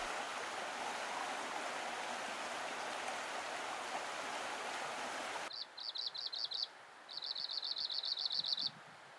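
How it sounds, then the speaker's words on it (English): In Alaska's interior, a white-crowned sparrow sings two short, clear trilled phrases, sharp and fairly close, first after a stretch of rushing stream-like noise, then over a quieter background. "A white-crowned sparrow."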